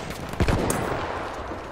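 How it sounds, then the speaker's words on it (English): Gunfire in the Battlefield 1 multiplayer game, a short burst of sharp shots over ongoing battle noise, close and loud. "I shot one guy."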